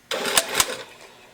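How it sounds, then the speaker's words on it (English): A sewing machine stitches a sleeve seam in a short, close burst of motor whir lasting under a second, with a couple of louder mechanical clicks. "I'm just gonna sew and 5/8"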